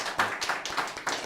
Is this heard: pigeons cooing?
no